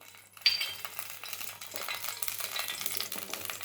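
A ground paste of onion, garlic and fenugreek drops into a pan on a stove, landing with a sharp splat and then crackling in a steady, close sizzle with light stirring scrapes.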